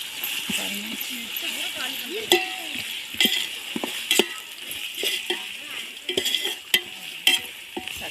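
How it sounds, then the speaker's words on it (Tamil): Ginger garlic paste fries in a pan for mushroom biryani under a light sizzle, while a spoon scrapes and clinks against the pan in irregular strokes and someone talks throughout. "இஞ்சி பூண்டு பேஸ்ட்டு சேர்த்துக்கலாம் பச்சை வாசம் போகிற அளவுக்கு கிளறிக்கலாம்"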